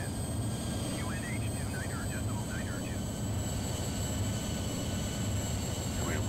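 A Lufthansa Airbus A380 landing in Microsoft Flight Simulator gives a steady, loud engine roar that holds throughout, with someone talking over it.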